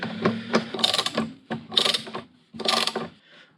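Ratchet wrench with a 10 mm socket working on the gear selector of a Yamaha 600 Fazer motorcycle: three bursts of rapid mechanical clicking, near and fairly loud, separated by short pauses, with no talking.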